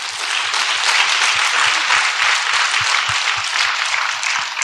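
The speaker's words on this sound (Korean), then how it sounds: "하나님께 영광의 박수." A church congregation claps together in steady, rhythmic unison, loud and close, with sharp regular beats running unbroken throughout.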